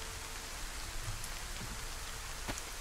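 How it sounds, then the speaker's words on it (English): Steady rain falling in the survival video game DayZ, a dense, even hiss of drops on surfaces with no pauses, moderately loud and alone. "Logging into a rainy day here."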